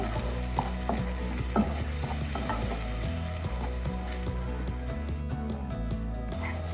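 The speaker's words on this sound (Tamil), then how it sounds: "தக்காளி நல்லா எண்ணெய் பிரிஞ்சு வர வரைக்கும் வதக்கி விட்டுக்கோங்க" Ground tomato sautéed in oil for a yellow pumpkin kurma, giving a steady close sizzle broken by scattered spatula scrapes and clicks against the pan, with background music underneath.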